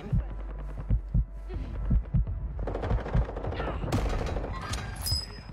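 Rapid bursts of video game gunfire, moderately loud and rhythmic, with reload clatter and brighter effects later, while a player talks over it.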